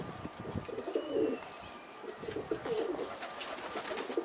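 Soft low cooing from domestic pigeons near a loft, several gentle bubbling coos repeated at moderate distance against faint outdoor background noise.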